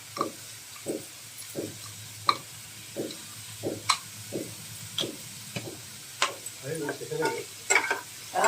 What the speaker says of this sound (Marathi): थोडं मीठ घालून पनीर आणि शिमला मिरची तेलावर परत